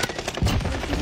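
Gunfire in the Warzone video game comes as a rapid burst of sharp shots, several cracks in quick succession, loud and close, with no talk over it.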